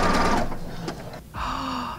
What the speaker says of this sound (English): if you don't have a whole bunch of crazy stitch options on your machine, just use a zigzag stitch